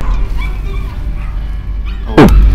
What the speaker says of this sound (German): Oh. Hund!